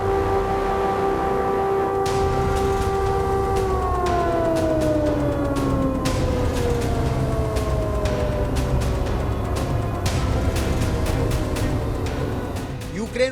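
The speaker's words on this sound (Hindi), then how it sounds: "सायरन गूंजते रहे।" Loud wailing air raid sirens sound continuously in Lviv, Ukraine, during the war with Russia, their pitch sliding slowly downward as they drone on, with scattered clicks and background noise throughout.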